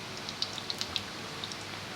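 Qeema samosas frying in oil over a low flame give a soft, steady sizzle with scattered light pops and crackles, quiet and close, with no talking.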